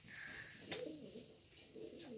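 Tumbler pigeons coo in a low, soft, repeated murmur from a nearby loft, with brief chirps and a sharp flutter in the background.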